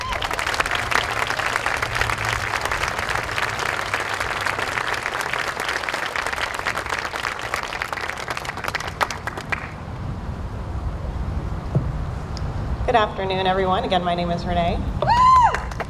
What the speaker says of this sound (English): My cheering crowd right there.